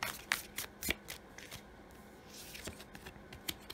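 Tarot cards are shuffled close up in quick, crisp riffling bursts of papery slaps and flutters, with short pauses between bursts and no talking.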